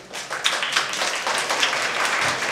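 Lecture audience applauding a talk on employer and employee retirement funds: a moderately sized crowd claps in a brisk, uneven patter that swells quickly and holds steady for a couple of seconds.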